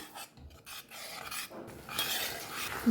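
A spoon scrapes and rasps through boiled peas and cooked masala in a pan, a few short uneven strokes, close and moderately quiet with no voices.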